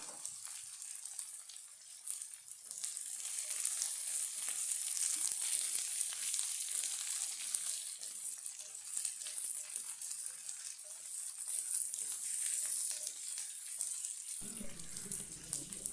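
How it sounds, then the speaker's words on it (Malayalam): Chopped papaya frying with onion in a pan for a Kerala papaya mezhukkuvaratti, a steady bright sizzle that stays constant throughout, with faint low background noise near the end, no talking. "ഉള്ളി ചെറുതായിട്ടൊന്ന് വഴറ്റി വരുമ്പോൾ അരിഞ്ഞു വെച്ചിരിക്കുന്ന പപ്പായ ഇട്ട് കൊടുക്കാം."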